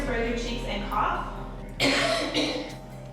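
A person coughs a couple of times, fairly close and loud, with a sharper burst near the end, amid background voices.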